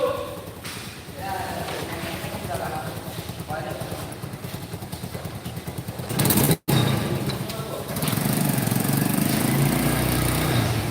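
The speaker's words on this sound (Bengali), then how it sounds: "সাউন্ডটা দেখছো ভাই ইঞ্জিন একদম অন" A Yulu bike's engine runs with a steady, close rattling drone, briefly cut off by a sharp dropout before resuming, while people talk over it at night.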